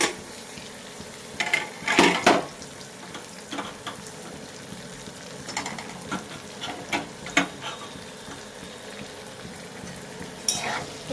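Ginger, garlic, green chili, coriander-cumin powder and turmeric frying in oil for a prawn curry, a low sizzle under irregular stirring scrapes and spoon knocks against the pan, a few louder clatters early on, no voices.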